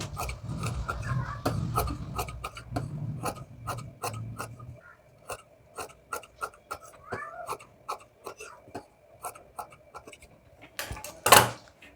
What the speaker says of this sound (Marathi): आता या बाजूचं आपण सगळं कापून काढायचं.